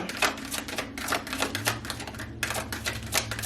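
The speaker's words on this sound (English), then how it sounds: "I shuffled these cards for a while" A rapid series of crisp, papery slaps and riffles repeats in quick bursts, close and fairly loud, as tarot cards are shuffled by hand.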